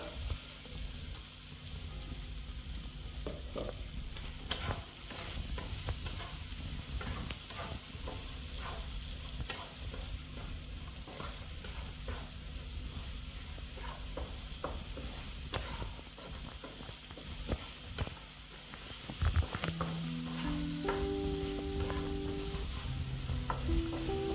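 Shallots fry in a pan for a Kerala-style dish, a steady soft sizzle broken by occasional stirring scrapes and clicks, with a few tonal beeps near the end.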